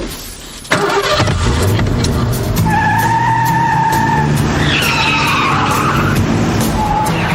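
A car starts up and tears away fast with squealing, skidding tires, the engine roaring loud and close as it accelerates hard for several seconds.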